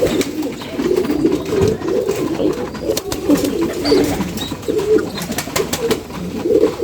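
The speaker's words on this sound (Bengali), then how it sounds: "আজকে কবুতর ঘরে আসছি কবুতরগুলো কী কীরকম আছে" Pigeons coo continuously inside a pigeon house, several birds overlapping in low, rolling calls close to the listener, with occasional faint rustles.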